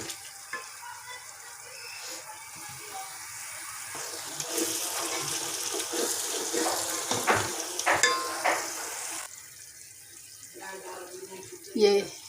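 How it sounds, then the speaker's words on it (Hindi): Onions and garlic-ginger paste sizzle and fry in a pan for beef biryani, a steady crackling hiss with stirring scrapes that swells in the middle, plus a brief splash of water near the end. "ये पेस्ट भी साथ ही ये भी फ्राई हो जाएगा और साथ में प्याज भी मज़ीद फ्राई हो जाएंगे"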